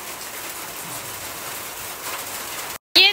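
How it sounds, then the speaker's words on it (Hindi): Steady rain pouring down outdoors during a power outage, a dense, even hiss of drops on surfaces that holds for several seconds, cuts out briefly and then returns. "टफू कैसे ऊपर मुंह कर कर के वो बारिश देखता है बहुत गौर से"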